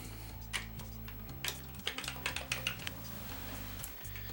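Keys clack on a Commodore 128D computer keyboard in need of cleaning: a handful of sharp, irregular taps, fairly faint, over a steady low hum.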